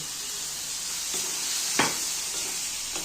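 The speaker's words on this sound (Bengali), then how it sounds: "মশলার সঙ্গে আলুগুলোকে ভালো করে নেড়ে চেড়ে নেব" Potatoes frying with spices in a pan for ghugni, a steady close sizzle running throughout, with a few scraping strokes of a spoon stirring through the mix.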